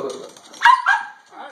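A dog whimpers and gives a short, sharp bark-like yelp while waiting for a treat, followed by a rising whine. It is close and loud, with indoor voices talking around it.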